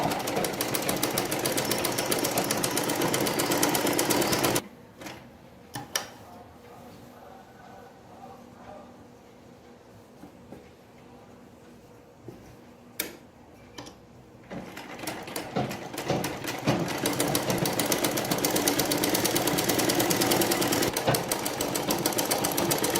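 A sewing machine stitches a two-panel salwar, running loud and steady at the start and end with a quieter gap in the middle filled with handling clicks.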